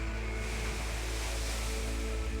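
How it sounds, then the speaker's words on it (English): Ocean waves wash on an island shore in a continuous low roar, steady and even throughout, with no voices over it. "The only noise is waves."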